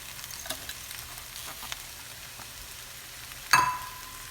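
Fried rice sizzling quietly in a pan as fried paneer is added, a soft steady crackle with faint stirring scrapes, then a sudden louder clatter and hiss near the end.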